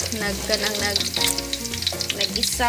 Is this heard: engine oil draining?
no